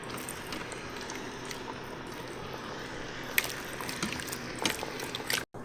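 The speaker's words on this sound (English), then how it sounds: "We'll place our lid on. Make sure to seal it." An Instant Pot lid is set in place and twisted shut, giving faint, scattered plastic clicks and a ratcheting catch over a quiet kitchen background.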